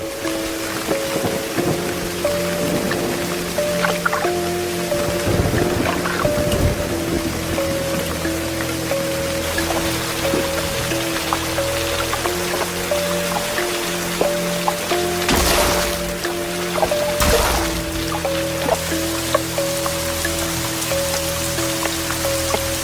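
Heavy rain pours steadily on surfaces for the whole stretch, dense and loud, with occasional louder bursts of drops and no voices.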